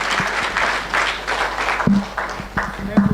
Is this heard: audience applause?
yes